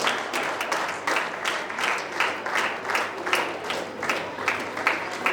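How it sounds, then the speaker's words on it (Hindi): Loud, lively applause from a seated audience honouring theatre artists at the closing of a national drama festival, rhythmic bursts of clapping repeating evenly with a crowd feel. "वो सभी लोग तालियों की कड़कड़ाहट से हमारे कलाकारों का सम्मान करते हैं"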